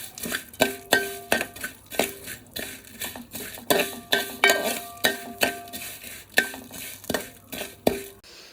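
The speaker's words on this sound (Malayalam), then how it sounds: "നമ്മുടെ സേമിയ നല്ലൊരു ഗോൾഡൻ കളർ ആകുന്നിടം വരെ നമ്മൾ ഇത് ഇളക്കി കൊടുക്കണം" Vermicelli being stirred in ghee in an uruli, a metal spoon clinking and scraping against the pot in a steady rhythm of sharp knocks over a soft sizzle, close and clear without talk.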